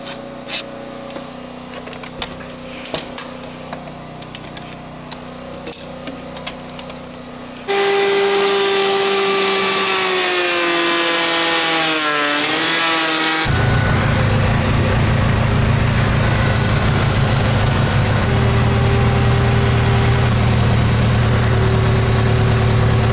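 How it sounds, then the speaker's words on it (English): Wood planer in a timber-frame workshop roars loud and steady after a quieter stretch, its pitch wavering as boards feed through, then giving way to a dense, broadband cutting roar. "Usually when this planer is not running well, it's almost always because of something."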